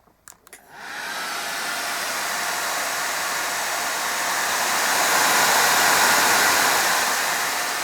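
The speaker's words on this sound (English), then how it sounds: "That's how loud the fan is." A GTX 760 graphics card fan on an eGPU adapter hooked to a ThinkPad laptop spins up after a few clicks into a loud, steady rushing whir that swells slightly louder over several seconds, close and alone.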